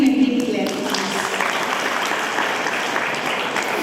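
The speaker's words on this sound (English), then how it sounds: "Give him a big clap." Clapping from the crowd at a Hindu Council of Kenya function honours a donor, steady and fairly even across the moment, with a voice at the start.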